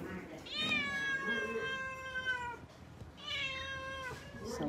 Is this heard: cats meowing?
yes